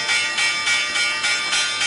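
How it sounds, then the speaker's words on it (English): A bell rings repeatedly to mark the stock market close, sounding as a sustained bright metallic clang in steady pulses about every half second, loud and without talk. "Let's ring the bell again."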